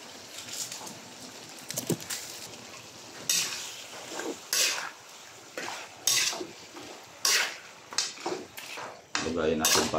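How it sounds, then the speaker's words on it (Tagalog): Pork cubes being mixed with seasonings in a pot, heard as repeated clanks and scrapes of a utensil against metal in irregular bursts, close and fairly loud, with no talk over them. "Lagayin natin para ma-mix yung yung mga ingredients na inilagay natin, ma-mix sa karne."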